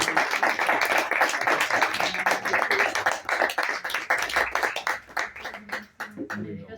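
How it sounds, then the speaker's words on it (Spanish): Audience applause at a book presentation on Cortázar, a room of people clapping in close, rapid bursts that thin out toward the end, with some voices underneath. "vamos a aplaudir"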